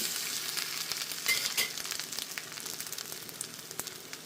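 A dosa fries with ghee in a pan, giving a steady close sizzle, with a few scraping taps as it is flipped.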